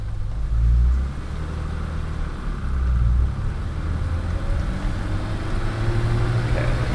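A 1980s BMW E28 M5 drives along with a low steady engine rumble and a couple of heavier swells as it pulls, heard from inside the car with road noise.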